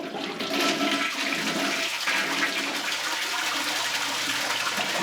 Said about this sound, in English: Will the marbles flush?